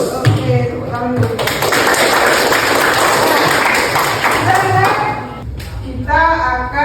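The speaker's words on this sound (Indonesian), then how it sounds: "Oke, tepuk tangan dulu." A classroom of pupils claps hands together in a dense, sustained burst of applause lasting several seconds. A teacher's voice is heard before the clapping and again just after it.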